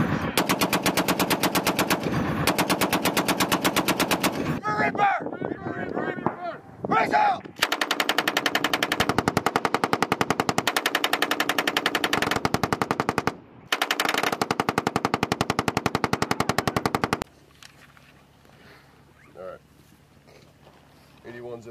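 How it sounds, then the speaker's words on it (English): Long sustained bursts of rapid Marine machine gun volley fire during a live-fire exercise at Twentynine Palms rattle continuously, broken by short gaps, then give way to a quieter low rumble at the end. "So you'll hear rolling guns."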